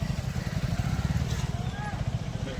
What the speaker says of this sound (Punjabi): ਇੱਕ ਪਾਸੇ ਦੀ ਮੋਟਰਸਾਈਕਲ ਸਕੂਟਰ ਲੰਘ ਰਹੇ ਆ